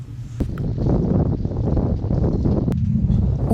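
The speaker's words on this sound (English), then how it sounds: "the wind is great today" Strong wind rushes and buffets steadily aboard a sailboat out on the water near islands off the coast of Korea, loud broadband gusting with a couple of brief knocks and no talking.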